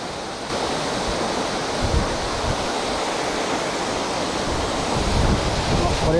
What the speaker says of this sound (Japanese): 枝沢からの流れ込みが滝になっており、小さい淵が形成されている。